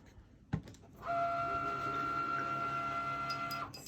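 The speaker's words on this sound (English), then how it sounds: "So noisy, my Cricut." A Cricut cutting machine runs with a steady, loud mechanical whir and sustained tonal hum that starts after a sharp click and continues evenly to the end.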